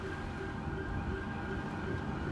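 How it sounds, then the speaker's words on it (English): Several sirens wail steadily and continuously through a busy police video game, forming a dense, fairly loud bed of sound with no voices over it. "I hear so many sirens now."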